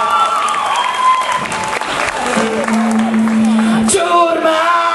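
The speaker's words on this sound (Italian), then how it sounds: "Voglio un applauso." A concert crowd claps, whoops and yells loudly, with shouted voices and sustained tones mixed into the roar throughout.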